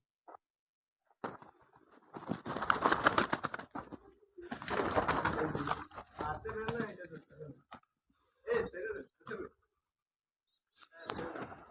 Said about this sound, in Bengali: দেখছেন কত কবুতর